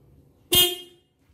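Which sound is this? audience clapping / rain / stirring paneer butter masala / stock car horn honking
stock car horn honking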